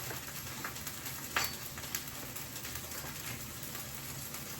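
Leftover cooked grits with butter frying in a little oil in a pan, a steady faint hiss and crackle with a couple of small pops, continuous throughout.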